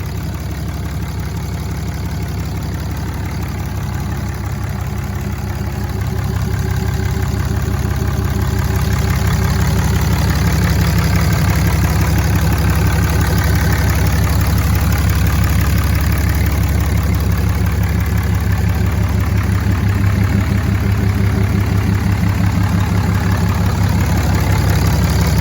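A 2008 Dodge Ram 3500 Big Horn pickup with its 6.7 liter Cummins turbo diesel idles steadily nearby, a loud, low, even clatter with a constant rumble that stays unbroken throughout, with no talk.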